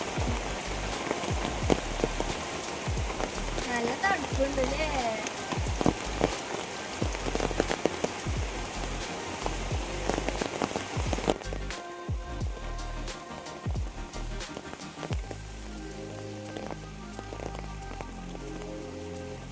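Heavy rain pours down on a rainy day, a dense steady patter on surfaces under occasional speech, with a faint rhythmic clopping sound appearing in the latter part.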